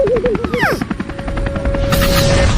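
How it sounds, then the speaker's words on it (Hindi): A cartoonish whirring helicopter sound with rhythmic chopping, a rising whistle and a sustained tone, loud and close, ending in a burst of noise. "हेलीकॉप्टर तो बहुत ऊपर आ गया है।"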